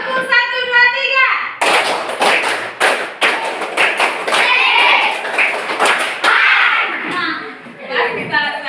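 A primary school class stands and does a counting clapping game, children chanting loudly while sharp claps land in bursts between their voices, the teacher leading.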